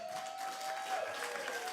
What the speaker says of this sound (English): give a warm round of applause for everybody you saw tonight